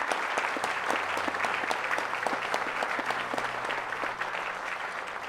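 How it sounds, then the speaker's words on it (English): Audience applause for a panel of leaders at a Native Hawaiian education summit, a steady, dense round of clapping from a crowd that carries on throughout at moderate distance with no talking over it. "let's give them another round of applause to all of our leaders."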